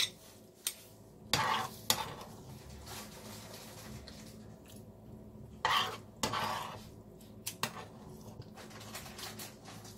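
Cooked ramen noodles are lifted into a bowl in a home kitchen, with scattered clinks and clatters of dishes and utensils and soft stirring scrapes between quiet pauses.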